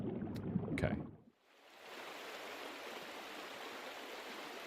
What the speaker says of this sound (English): That kind of sounds like the Minecraft water sound effect